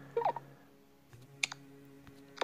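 A computer mouse button gives a few sharp, small, close clicks, spaced apart over a faint room hum.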